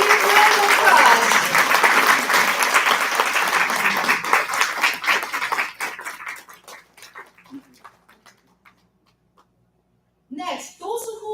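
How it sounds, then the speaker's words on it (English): Applause from an audience at an Atomy company event as Leaders Club members come forward, loud and dense at first, then thinning into scattered claps and fading to near silence before a voice speaks at the end. "Please give a big round of applause."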